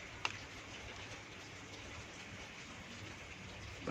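Rain falls steadily onto ground dotted with biopore holes, the water soaking straight in rather than pooling; an even, soft patter continues throughout with one brief sharper tap early on.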